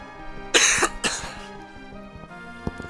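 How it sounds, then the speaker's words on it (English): Two sharp coughs close to the microphone, one after the other, over a low electronic background hum, with no talking. "I'm sorry you can hear that coughing."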